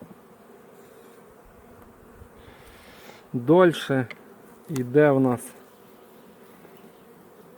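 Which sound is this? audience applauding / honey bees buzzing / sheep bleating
honey bees buzzing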